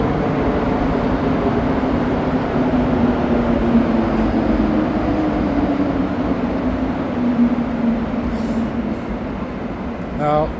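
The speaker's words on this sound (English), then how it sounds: "There you can see and hear the trains." Montreal Metro trains rumble steadily past on the Green Line, a continuous low roar with rail hum throughout, while a person talks over the noise.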